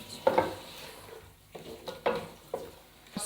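A spoon scrapes and stirs as browned fried onions are mixed into biryani in a pot. The clinks and scrapes come in short, repeated strokes at close range, with a faint sizzle underneath.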